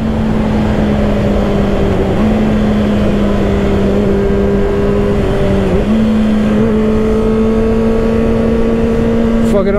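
A 2024 Kawasaki ZX-6R Ninja sport bike accelerates hard with a quick shifter, its steady engine drone clipping up through several gears in quick succession, loud and close with wind rush, while a rider talks over it.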